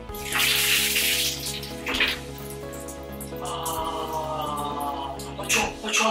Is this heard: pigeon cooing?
no